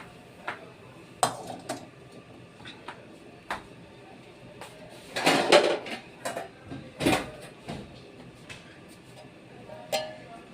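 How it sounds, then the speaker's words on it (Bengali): A frying pan and dishes are handled in a home kitchen, giving scattered faint clinks and knocks with a few louder metallic clatters partway through, set against quiet room noise. "নিয়ে নিচ্ছে একটা ফ্রাইং প্যান।"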